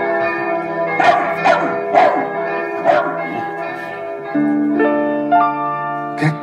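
Repeated dog barks, about six sharp yaps at an uneven pace, sound over sustained ringing bell tones from a town's mechanical clock show, loud and close throughout.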